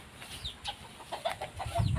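Chickens cluck softly around a farm coop, brief scattered calls at close range over a low rustle, with a louder thump of movement near the end.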